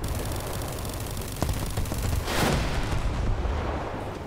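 An F-4 Phantom firing rocket pods at a tank in War Thunder: a dense roar of engine and launches under a rattle of shots, then a rushing whoosh and booming impact partway through, with no talking.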